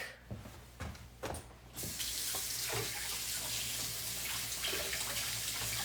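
Hands are rinsed under a running faucet at a sink, with a few brief clinks and splashes before a steady, close rush of tap water takes over.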